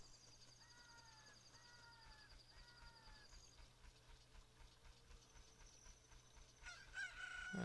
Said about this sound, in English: That darn egg turned into a chicken.